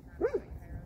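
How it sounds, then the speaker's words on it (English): A single short dog bark, fairly distant, over quiet background hum, at a dog park. "What are they barking at?"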